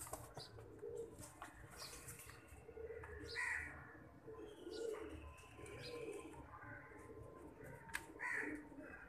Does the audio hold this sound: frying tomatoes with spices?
no